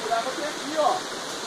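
Steady rushing water flowing over the rocks at Pedras de Itaguaçu, a continuous close hiss and splash, with brief voices faintly in the mix.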